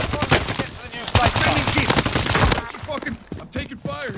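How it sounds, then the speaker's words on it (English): Rapid automatic gunfire from a Call of Duty match rattles loud and close in dense bursts, dropping off toward the end, with voices talking over it. "I'm taking fire here."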